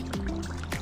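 Water drains out of a backyard pond with gurgling, dripping plops and a couple of quick liquid bloops over a steady low trickle, heard fairly close.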